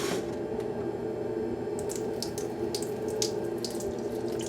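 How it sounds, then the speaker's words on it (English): DI water runs steadily over a dirty YSI sonde unit, a continuous splashing rinse from start to finish, close and alone. "the Sonde unit is dirty because it's been in conductivity, so we need to rinse it off with our DI water."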